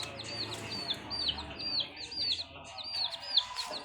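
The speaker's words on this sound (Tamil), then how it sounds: "எங்கள் வீட்டில் பார்த்தீங்கன்னா புதுசாக 2 கோழி குஞ்சு வாங்கியிருக்கோம்." High, repeated peeping chirps from baby chicks, quick and steady, close by over faint background noise.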